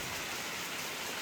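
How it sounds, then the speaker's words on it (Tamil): Light rain drizzles steadily outdoors in a village, a soft, even hiss with no voices or other sounds over it. "மழை வந்து தூறிக்கொண்டிருக்கு."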